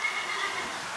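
A four-year-old Criollo horse neighs briefly, a short thin whinny over steady background noise, with no talking.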